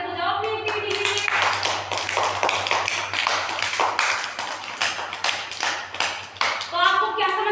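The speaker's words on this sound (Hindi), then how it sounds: "तालियां बजाओ अपनी एक्टिविटी के लिए।" Children clapping in a classroom after a science activity about heavy objects sinking in water, a fast, rough burst of many small hands that keeps going, with an adult's voice heard briefly at the start and end.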